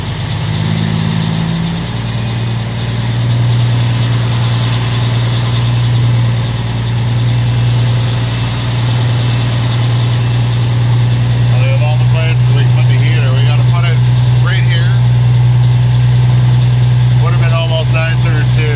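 A truck engine idles steadily and loud throughout while the vehicle backs onto mats, a low constant hum under intermittent bursts of nearby speech.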